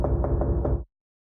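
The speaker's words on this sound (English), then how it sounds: "He knocks at the door." Several loud, close knocks on a wooden door, a quick rhythmic series of solid thuds that stop abruptly into silence.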